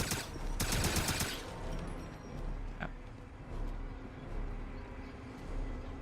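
Rapid automatic gunfire from a first-person shooter, Wolfenstein (2009) on Xbox 360, firing at a machine: a dense loud burst up front, then a single sharp shot over a steady rumbling game soundtrack.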